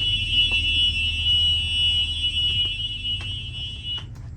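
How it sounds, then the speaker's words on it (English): A bus emergency window buzzer drones continuously at a steady high pitch, with faint clicks and low background rumble, cutting off near the end. "I can hear the buzzer and the light should be working."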